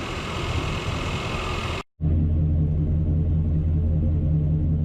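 A Chevrolet 350 V8 idles steadily with a low, even rumble, loud and close, broken by one brief dropout partway through; no one speaks.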